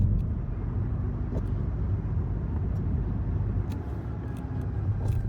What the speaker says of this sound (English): I can already tell this is gonna be some bull traffic